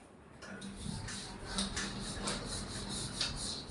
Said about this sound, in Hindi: चले इसको मिटाएं हम